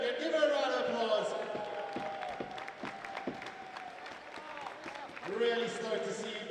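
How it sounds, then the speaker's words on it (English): Applause and crowd noise at a BMX park contest for rider Emma Finnegan, sustained clapping and cheering with an announcer's voice over it. "Give her a round of applause."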